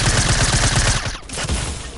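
Rapid automatic gunfire in a shooting video game, a dense continuous fusillade that is loud and close and briefly thins partway through, with no talking.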